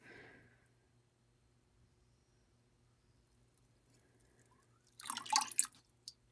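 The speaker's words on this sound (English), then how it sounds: "I'm gonna take and dip my pot that's all painted white onto the surface." A white-painted plant pot is dipped into a bath of water for marbling, giving a short wet splashing and dripping burst near the end after a mostly quiet stretch.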